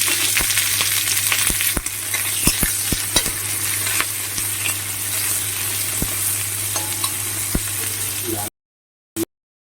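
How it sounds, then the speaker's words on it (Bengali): Chopped onions fry in oil previously used for frying chillies, giving a loud, continuous sizzle broken by sharp stirring scrapes and clicks before the sound cuts off abruptly. "সেই তেলে এবার আমি কুচুরা পেঁয়াজগুলো একদম লাল লাল করে"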